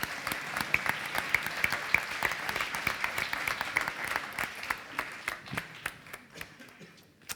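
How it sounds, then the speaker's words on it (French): Audience applause at a French financial awards ceremony, a steady wash of many hands clapping that thins out and fades toward the end, with no talk over it. "On peut vous applaudir."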